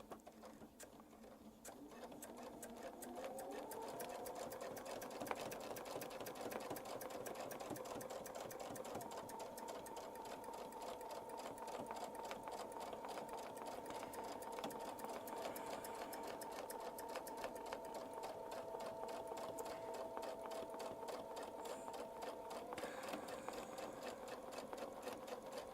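A sewing machine stitches a quilt block guided by a Westalee ruler template, running steadily and fairly loudly at close range for over twenty seconds with a brief slowdown near the end.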